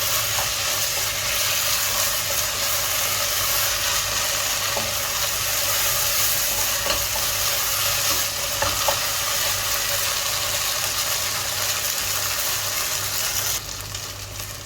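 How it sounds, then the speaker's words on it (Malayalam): Soaked sago and carrot sautéing in a pan for a carrot payasam give a continuous close sizzle and hiss with faint stirring scrapes. The sound holds steady for most of the stretch, then drops slightly quieter near the end. "ഇത് ഒരു 2 മിനിറ്റ്സ് നല്ലപോലെ വഴറ്റി കൊടുക്കാം."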